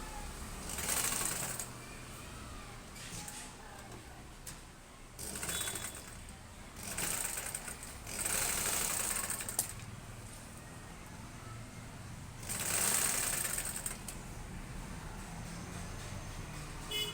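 A sewing machine stitches piping onto a blouse in several short, close runs of rapid whirring, separated by quiet pauses.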